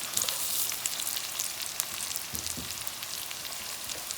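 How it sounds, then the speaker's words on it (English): Sausage browning in a pan for a fire spaghetti dish gives a steady, close sizzle with fine crackling pops throughout, no talk over it. "as you can see, the sausage is like getting a little bit brown"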